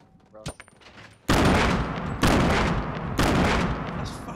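Loud gunfire erupts in Fortnite: three heavy, sustained bursts of shooting follow each other roughly a second apart, dominating everything after a few quieter clicks and knocks at the start.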